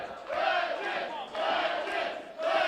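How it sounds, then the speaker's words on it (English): A wrestling crowd at a tag team exhibition match chants "Legends" in loud rhythmic waves, three swelling bursts of massed voices filling the arena. "Crowd chanting Legends"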